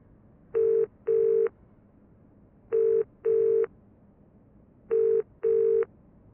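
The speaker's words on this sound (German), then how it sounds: "Telefon." A telephone rings in Broken Sword 4 (Baphomets Fluch 4) as steady electronic double-burst tones. Three evenly spaced pairs of short rings stand alone and fairly loud over faint background hiss.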